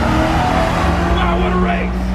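Crown Victoria and Honda Civic drag racing at a street car meet, with a loud, continuous engine roar and rumble close by and a rising rev, while voices talk over the noise.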